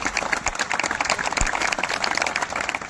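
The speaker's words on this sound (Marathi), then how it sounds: "त्यांच्या टीमसाठी एकदा जोरदार टाळ्या होत्या" An audience gives a teacher and his team a loud, sustained round of applause, dense clapping filling the space without a break.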